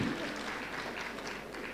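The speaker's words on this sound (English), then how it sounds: "Let's give him a big clap." Brief, quiet applause from an audience at a formal gathering of leaders, a soft wash of clapping heard from a distance and fading, with no voices.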